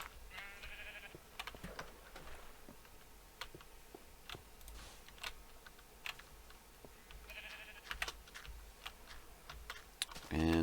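Sheep bleat twice in Minecraft Infdev, short synthetic baa calls near 1 s and again near 8 s, faint over a steady bed of keyboard typing and mouse clicks.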